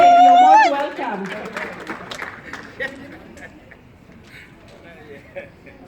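Applause breaks out for a man called up to speak at a South Sudanese Equatorian women's association gathering in Minnesota, rising after a voice fades and continuing as a moderate, scattered clapping patter with a bit of crowd murmur.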